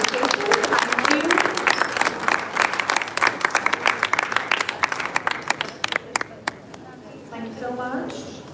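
An audience in a conference hall claps for a felicitation, with loud, dense applause that thins toward the end into scattered individual claps and fades as voices start talking at the close.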